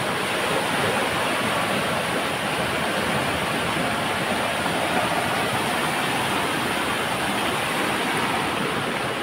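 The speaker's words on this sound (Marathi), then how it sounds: "फोर्सने आहे गाईस पाणी, खूप फोर्सने आहे." A flooded river in a Konkan village rushes past with great force, a loud, continuous roar of churning water that fills the whole stretch without a break.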